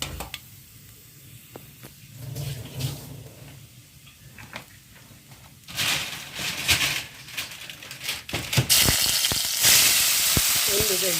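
Urad dal or chana dal drops into a hot tempering pan for bun dosa batter, starting as a quiet low crackle, then turning into louder bursts of sizzling and spattering in the second half with scattered clicks and pops.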